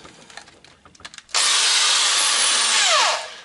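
Power drill boring an 8 mm hole into the steel body of a Citroën Traction 11B, a steady loud whir starting abruptly after a few faint knocks and rising in pitch before winding down.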